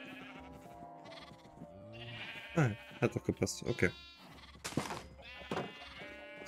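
Several bleats from sheep in the video game Minecraft, wavering calls of varying pitch close by, mixed with someone talking quietly.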